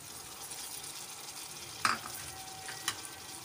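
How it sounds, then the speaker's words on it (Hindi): Masala sizzling steadily in a pan as tomatoes go in for an arbi (taro root) dish, a continuous frying hiss with a couple of brief sharper crackles or clinks, fairly quiet and without talk. "अब हम बाकी मसाले ऐड करेंगे। मैं इसमें टमाटर डाल दूंगी"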